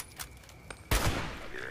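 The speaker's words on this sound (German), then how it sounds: "Du bist schon wieder am Schießen." Gunfire in the post-apocalyptic game Fallout 76: a couple of faint distant shots followed by one loud close blast with a rumbling tail.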